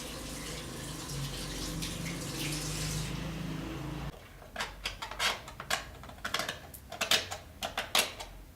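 Paint brushes rinsed under running water after cleaning with thinner and dish soap: a steady gushing tap stream, then a run of irregular splashes and knocks as the brushes are worked.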